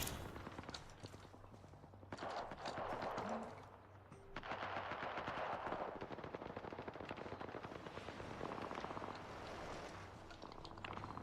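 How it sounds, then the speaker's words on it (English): Rapid automatic gunfire bursts in a battle royale video game, sustained volleys of machine-gun style shots with brief pauses, loud and continuous over game effects. "We're already firing on enemy."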